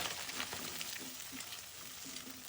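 Chopped carrots sizzle steadily in hot oil while frying for egg fried rice, a dense close hiss with faint stirring scrapes, no voices.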